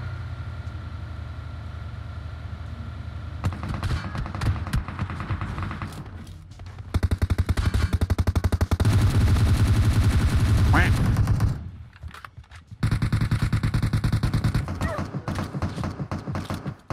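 Rapid automatic gunfire rattles in long dense bursts in PUBG Mobile, loud and close, broken by brief pauses, with an engine-like hum underneath between volleys.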